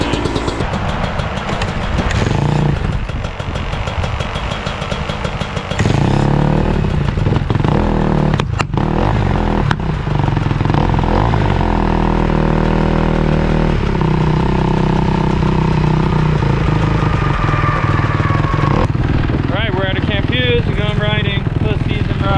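Motocross bike engine fired up with its electric start outdoors on ice in the cold, then idling and blipping loudly nearby with a rattly two-stroke bark, while people talk over it.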